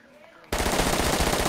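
A sudden burst of rapid automatic gunfire erupts after a quiet half second in a tactical shooter game, loud and sustained with a fast, even rhythm.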